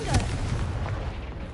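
A Confringo blasting spell fires in Hogwarts Legacy, a muffled booming explosion with a rumbling tail that fades over a second and a half.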